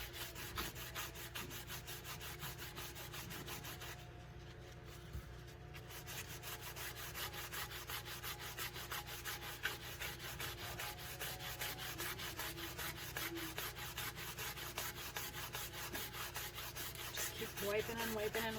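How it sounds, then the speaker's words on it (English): A cloth is rubbed over tooled leather on a tumbler to bring the vinyl underneath into view, making a steady, rhythmic scrubbing and swishing sound up close that continues without talk. "Just keep wiping and wiping and wiping. And you'll start to see your vinyl pop through."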